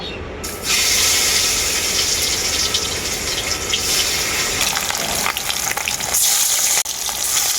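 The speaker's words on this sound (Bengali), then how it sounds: "তেলটা খুব ভালোভাবে গরম হয়ে গেছে মাছগুলো আমি এখন ভেজে নেব" Snakehead (shol) fish frying in hot mustard oil in a karahi, a loud, dense, continuous sizzle and crackle that surges as the fish goes in and keeps going without talk.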